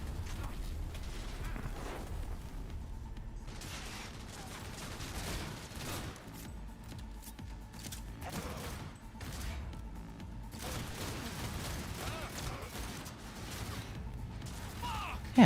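Gunfire and grenade blasts in a shooter video game, dense and continuous bursts of shots with crashing impacts throughout, mixed with game noise and brief voices.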